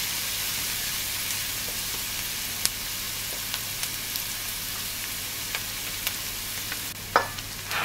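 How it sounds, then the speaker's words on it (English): Onions fry in a pan with a steady, close hiss of sizzling oil, punctuated by a few faint ticks and a brief clatter near the end; no talking. "allow it to cook until the onions start to turn tender, translucent and lightly brown on the edges"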